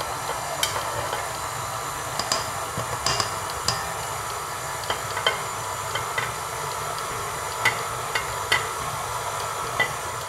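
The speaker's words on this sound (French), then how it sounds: "Je vais laisser le robot travailler à petite vitesse comme ça pendant 10 minutes." A stand mixer fitted with a dough hook kneads baba dough with butter at low speed, giving a continuous hum with small periodic slaps and clicks from the bowl, close and steady, with no talk.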